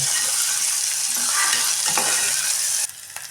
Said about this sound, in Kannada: ಇವಾಗ ಶುಂಠಿ ಬೆಳ್ಳುಳ್ಳಿ ಪೇಸ್ಟು ಹಾಕ್ತಾಯಿದ್ದೀನಿ